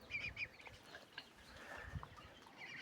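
Newly hatched muscovy duckling and turkey chicks peep in a dense chorus of short, high cheeps that overlap continuously throughout, heard at moderate distance against a low background rumble.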